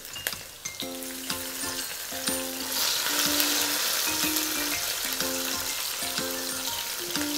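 Onion, then chili, sauté in a pan with a bright, crackling sizzle that builds and holds steady, while a repeating tonal chime or beep sounds faintly in the background.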